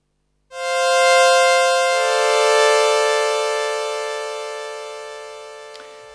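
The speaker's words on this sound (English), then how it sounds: "So we've now just got a straight sawtooth sound." Plain sawtooth synth pad from the FXpansion Strobe2 synthesizer, a bright buzzy sustained chord that swells in with a soft attack and holds steadily, alone and fairly loud for several seconds.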